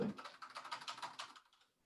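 Quick, steady keystrokes on a computer keyboard, close and fairly quiet, with clicks running evenly for over a second before tapering off into silence.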